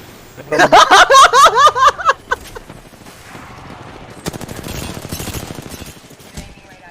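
Rapid bursts of automatic gunfire from the Apex Legends video game, loud and close, firing in a quick stuttering run and then trailing off into softer scattered shots, with a brief chuckle and faint voices nearby.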